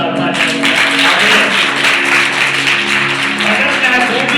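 An audience at a Christmas church service claps for Jesus, a loud, sustained burst of applause with a preacher's voice and musical tones running underneath.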